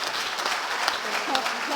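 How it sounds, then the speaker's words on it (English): An audience at a conference claps for the team, a brisk, fairly loud round of applause with a few voices mixed in. "I do want you to give a big applause to the team once again"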